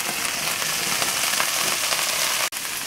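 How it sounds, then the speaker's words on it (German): Zucchini slices, corn, peas, carrots and pepper strips fry in a pan with a steady, close, crackling sizzle and a brief dropout near the end. "Das nochmal lassen wir jetzt anbraten."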